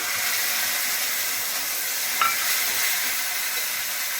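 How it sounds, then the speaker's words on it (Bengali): Paste of onion, garlic, green chilli and ginger frying with lightly fried tomato in a pan, giving a steady close hiss and sizzle throughout with a brief stir partway through. "এখানে যে পেঁয়াজ, রসুন, লঙ্কা, আদা বাটাটা আমি দিয়ে দিচ্ছি"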